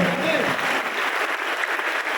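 Audience applause at an evangelistic revival service on Batam Island, a dense, steady wash of clapping from a large crowd that fills the whole moment, with a brief trace of voice at the start.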